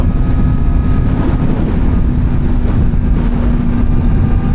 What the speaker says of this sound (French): le son à la sortie de l'échappement n'est pas envahissant.